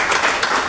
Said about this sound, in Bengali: ওনাদের হাত তালি হবে